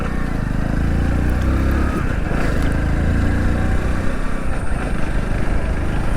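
A Hero Splendor Plus Flex Fuel motorcycle running on E85 is ridden at steady speed, a continuous low engine drone mixed with heavy wind rush, loud and unbroken, with faint speech underneath.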